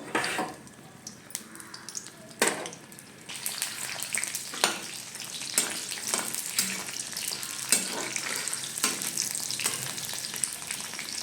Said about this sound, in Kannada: ಸೊ ಇವಾಗ ಕಾದಿರೋ ಎಣ್ಣೆಗೆ ಈರುಳ್ಳಿ ಹಾಕಬೇಕು.